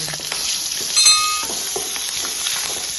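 Cardamom pods, cloves and chopped green chillies frying in hot oil in a pan for a cashew kurma, giving a steady, close sizzle with a brief clink of a utensil early on.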